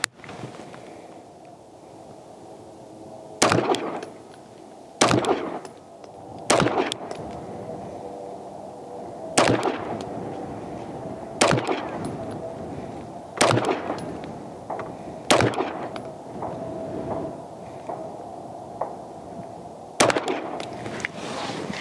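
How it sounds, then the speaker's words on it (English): A P2 pistol fitted with a Genghis Komp compensator fires at a 25-yard target, about ten sharp loud shots spaced a second or two apart, each ringing out over a quiet outdoor background. "I'm gonna shoot a group from 25 yards out"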